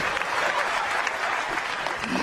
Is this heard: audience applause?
yes